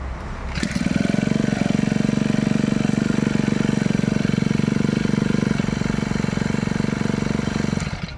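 An old, stock Japanese Honda GX25 four-stroke grass cutter engine starts and runs at a steady, even idle, up close and fairly loud, before cutting off at the end.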